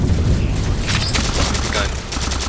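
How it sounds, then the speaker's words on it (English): Grenade blast and battle noise in the sci-fi shooter Halo 4, a dense, loud rumble with rapid gunfire crackle throughout, a player's voice mixed in over the chaos. "Grenade."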